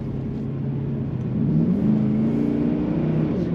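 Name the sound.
2005 Pontiac GTO engine while cornering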